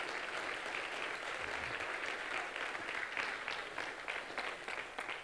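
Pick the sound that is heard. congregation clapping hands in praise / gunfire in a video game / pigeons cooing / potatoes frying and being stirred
congregation clapping hands in praise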